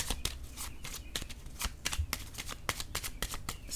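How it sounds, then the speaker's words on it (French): Tarot cards are handled, shuffled and laid down one after another on a surface, making crisp close-up slaps and flicks in a quick irregular rhythm, with no voices. "Là, je vais déposer directement une carte sur le mot"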